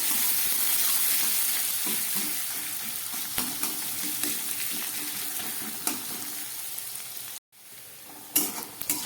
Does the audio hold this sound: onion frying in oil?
yes